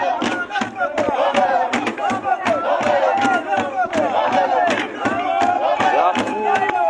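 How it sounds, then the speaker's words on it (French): A large crowd roars and shouts in loud, rhythmic bursts, with massed voices rising and falling continuously at close range. "La foule."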